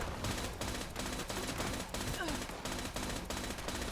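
Rapid automatic gunfire from a Fallout 76 firefight, a dense, loud stream of bursts with short gaps, continuing throughout with a faint voice underneath.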